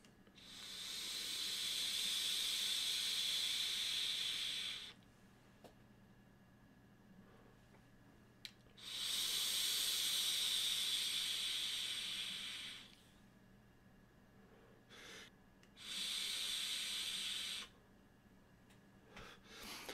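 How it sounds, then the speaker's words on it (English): Innokin Coolfire Ace e-cigarette vaped at 35 watts, giving three long airy hissing draws of about four to five seconds each, separated by quiet pauses with small clicks, close and fairly soft. "And open your airflow, 35 watts,"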